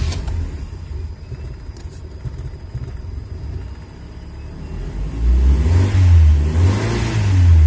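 Toyota Kijang with an 1800cc carburetor engine running on LPG, idling roughly, then revving up in rising and falling surges, loud and close.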